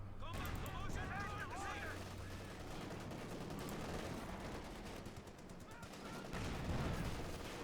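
Sustained gunfire and machine-gun bursts from a Company of Heroes 2 battle, with American infantry pinned under German fire and a Sherman and Panzer IV nearby; dense, continuous rattling volleys with occasional heavier impacts, and a voice talking underneath throughout.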